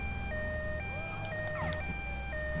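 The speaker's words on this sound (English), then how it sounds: "I put the sirens on, it actually slowed me down" An ambulance siren in GTA Vice City wails loudly in alternating two-tone steps, with a brief whooping sweep mixed in over rumbling traffic and engine noise.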